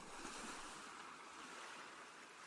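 Gentle ocean waves murmur as a soft, continuous wash, faint and unbroken, with no voices.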